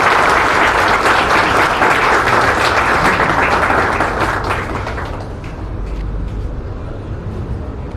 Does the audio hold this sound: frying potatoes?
no